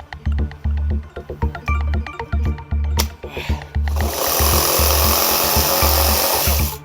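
A DeWalt DCS369 cordless reciprocating saw runs in short rhythmic bursts, then cuts steadily and harshly through material, loud and close.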